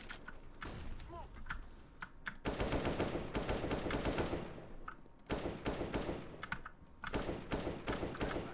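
AK-47 rifle fire in Counter-Strike: Global Offensive competitive play, several rapid bursts of loud close shots separated by short pauses, with keyboard clatter and a voice talking underneath.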